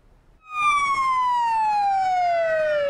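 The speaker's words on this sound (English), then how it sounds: "The sound of sirens blared through downtown Billings Tuesday afternoon" A loud wailing police siren starts abruptly and holds a steady, slowly falling tone, close by and clear, with faint traffic rumble underneath, in downtown Billings, Montana.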